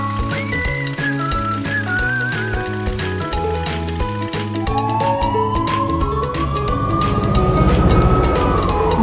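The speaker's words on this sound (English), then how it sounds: "Monster police car." A toy-like police car siren whoops and wails over loud background music, rising and falling in pitch as the sound builds toward the end.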